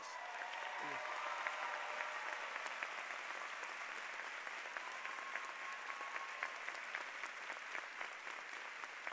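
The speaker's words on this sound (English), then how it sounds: "Let us give all of you a round of applause." Sustained applause at a graduate commencement ceremony honoring veterans and military members, a broad even crowd clapping that continues throughout, with a brief vocal sound near the start.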